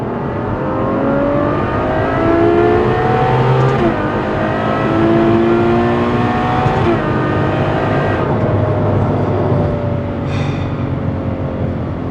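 A Lamborghini V12 engine revs loud and close, its smooth multi-toned howl rising and falling through the gears in long sweeps over a steady road roar, with no voices.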